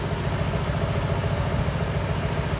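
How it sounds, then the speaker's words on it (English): A Fiat 500 TwinAir's exhaust blows at the centre flexi section, giving a steady, close, rough engine drone with a low pulsing rumble throughout. "As I was driving here, the exhaust started blowing."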